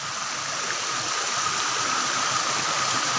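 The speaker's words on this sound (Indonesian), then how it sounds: "Itu ada air terjun juga ini." Constant broad hiss of a small mountain waterfall in a village forest pouring nearby, steady and fairly loud throughout with no breaks.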